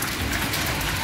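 Heavy rain pours down steadily, a dense close hiss that continues without a break.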